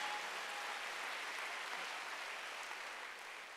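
A church congregation claps together in a soft, even wash of applause at Sunday worship, steady throughout and tapering slightly at the end, heard from a distance.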